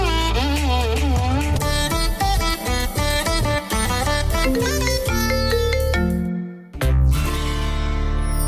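A mobile phone rings for an incoming call with a loud, repeating melodic ringtone that plays steadily for about six seconds, then cuts off abruptly.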